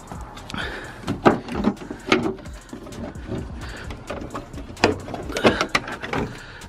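Plastic cowling panel being pulled off a Dodge Ram below the windshield, giving a series of close clacks, knocks and scraping rattles in irregular bursts with no talking.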